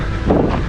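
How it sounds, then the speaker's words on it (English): Steady wind buffeting the microphone on a nature trail at Lake Scott, Kansas, a rough, full rumble filling the brief moment without any voices. "Oh, and sorry about the wind."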